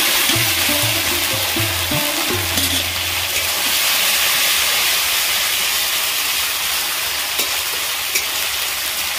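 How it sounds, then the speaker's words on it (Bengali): Grated coconut frying in a hot pan with bay leaves, a loud continuous sizzle and hiss with light stirring scrapes, steady throughout with no voices. "নারকেলটা ভালো করে ভেজে নেব"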